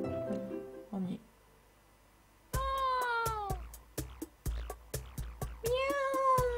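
A cat meows in the video game Dandelion, one long meow and then a brisk run of short, loud, close meows with plucky accents, after a softer tonal passage and a brief lull.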